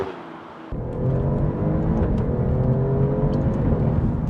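An Alfa Romeo Giulia Quadrifoglio engine revs at half throttle, rising from a lower drone into a loud, sustained growl with climbing harmonic tones, heard close from inside the car.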